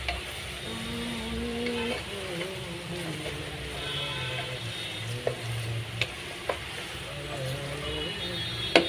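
Broiler chicken curry sizzling and frying in a pan as potatoes are added, a steady bubbling hiss with stirring scrapes and a few sharp clinks, while a person talks over it.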